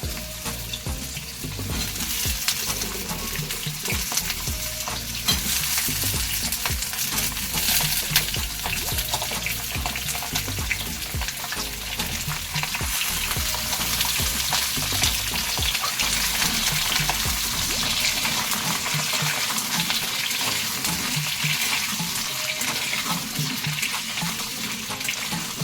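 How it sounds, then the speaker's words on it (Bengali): Food frying in oil with a pinch of salt sizzles loudly and continuously for a long stretch, with steady crackling and occasional faint stirring. "সেগুলো ভাজা হোক, তার সাথে না একটু নুন দিয়ে আমি ভাজছি"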